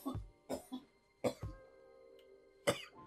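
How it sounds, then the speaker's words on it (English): Several sharp human coughs in quick bursts, close to the mic, with short gaps and a throat-clearing sound among them; no talking. "I coughed as soon as I put him in F."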